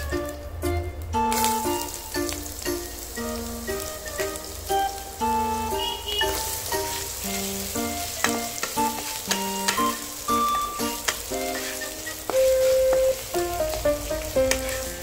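Potatoes fry and sizzle in hot oil with kalonji seeds and a halved green chilli for a sajne flower chorchori, a steady close sizzle running throughout with music playing over it.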